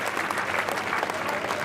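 Applause from a poetry-recital audience at a comic Hindi kavi sammelan, a steady wash of many hands clapping together, moderately loud and sustained throughout.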